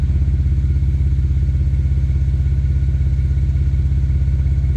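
A BMW N54 335i engine idles with an exhaust leak, producing rapid, even, rhythmic low puffing pulses that stay loud and steady throughout, with no talk.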